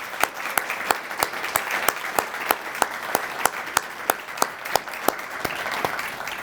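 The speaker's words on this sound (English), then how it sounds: "So I would like to lead in a round of applause for Scott Neal." An audience at a community presentation in Edina applauds Scott Neal, a dense sustained patter of many hands with strong individual claps standing out regularly nearby, no talking over it.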